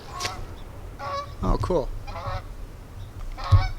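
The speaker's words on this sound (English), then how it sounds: "Those are some loud geese." Loud geese honk nearby in several repeated bursts, one cluster overlapping into a noisy squawk, while a person briefly speaks.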